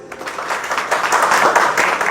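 An audience gives a round of applause in honour of invited guests. Many hands clap together in a dense, crackling burst that stays fairly even for a couple of seconds, and no one speaks over it.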